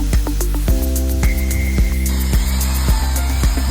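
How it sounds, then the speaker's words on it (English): An 80-grit grinder works over teak wood, giving a loud, steady whine with a low hum and regular rhythmic pulses, and the pitch shifts and brightens partway through. "Using an 80-grit grinder, we smooth every edge and surface"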